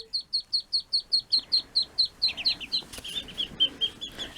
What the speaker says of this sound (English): This is what we get up to with the ducklings on my bed.